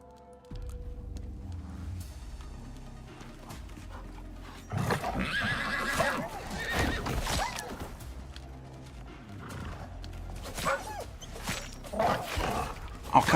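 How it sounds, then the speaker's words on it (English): A horse in the video game Icarus gives a loud, close neigh and whinny, with hooves clopping and scattered game sound effects around it. "Come here, horse."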